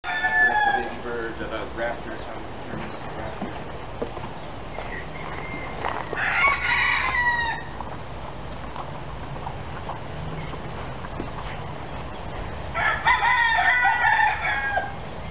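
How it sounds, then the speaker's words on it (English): Chickens and roosters at a wildlife rescue center, with roosters crowing loudly and more than once over a steady backdrop of clucking and farmyard noise. "So this is where they keep the chickens."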